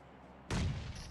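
A grenade blast in a video game erupts as a sudden loud boom after near silence, then dies away into a rumbling tail.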